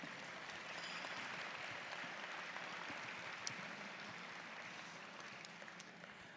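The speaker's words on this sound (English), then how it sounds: "let's give these grads one more round of applause" Sustained crowd applause for graduates at an Indigenous graduation celebration, a steady dense wash of many hands clapping with no voices over it, holding level throughout.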